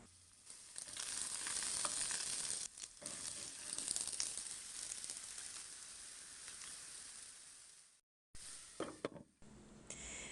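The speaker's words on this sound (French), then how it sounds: "Je vais les faire revenir dans une poêle dans laquelle j'ai ajouté un peu de l'huile d'olive." Diced onion and grated garlic fry in olive oil in a pan with a close, steady, crackling sizzle. Light stirring is heard, and there is a brief silence near the end before the sizzling resumes.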